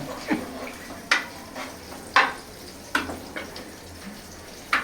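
Tomatoes browning in a hot pan for sinigang sa miso, a soft steady sizzle broken by about half a dozen scraping stir strokes at roughly one-second intervals, close and moderately loud.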